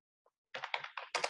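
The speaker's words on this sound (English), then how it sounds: "I mean, I am typing." Typing on a computer keyboard while writing in an online sales-funnel builder: a faint single tap, then four quick bursts of clustered keystrokes, close to the microphone, with no talk over them.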